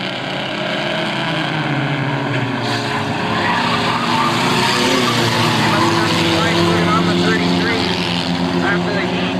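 Race cars at a 1998 RGS race roar around the track side by side, a loud continuous engine drone with tire noise, under a commentator's running voice.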